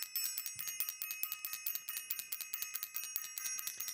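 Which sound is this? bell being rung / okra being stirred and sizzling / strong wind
bell being rung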